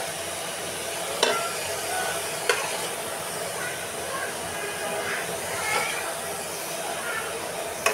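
Eggplant curry sizzling in a pan while it is stirred, a steady broad hiss with a few scraping knocks of the spoon, close and continuous.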